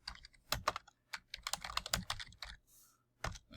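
Quick bursts of typing on a computer keyboard to enter a search, crisp close key clicks in uneven clusters with short pauses, no talking.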